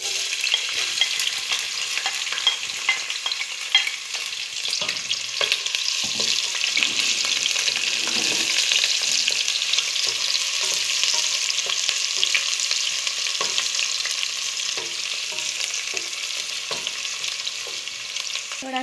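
Onion frying in hot oil for aloo gobi sabzi, a dense, steady sizzle and crackle with scattered small pops and stirring scrapes throughout, close and fairly loud, no talking.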